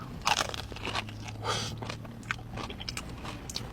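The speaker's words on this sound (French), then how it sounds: "Ça croustille bien." Bites into a crunchy hazelnut praline pastry give several crisp crunches followed by close, moist chewing, fairly quiet and near, with no talking.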